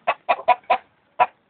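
A winning gamecock chicken gives five sharp, close clucks in a quick uneven run, with a short pause before the last one, clear against a quiet background.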